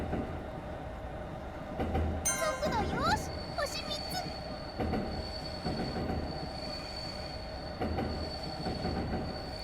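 Train coasting at about 60 in the Densha de Go railway driving game, a steady rumbling run with rhythmic wheel clatter, a brief high squeal and a sustained tone, with speech over it.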